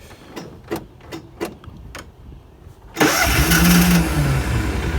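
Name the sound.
Kawasaki Mule engine starting with choke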